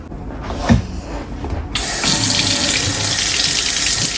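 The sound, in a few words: water running from filtered kitchen faucet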